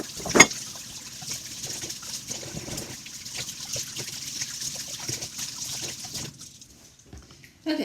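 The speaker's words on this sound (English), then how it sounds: "let's wash our asparagus." A kitchen tap runs over fresh asparagus, giving a faint continuous trickle and splatter with a sharp knock near the start before the water stops near the end.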